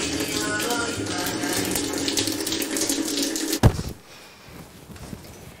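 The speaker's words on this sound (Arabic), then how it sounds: "يا اختي بالراحه شويه على الميه" Water runs steadily from a tap into a sink for over three seconds, a full rushing stream, then cuts off abruptly with a brief thud, leaving quiet room tone.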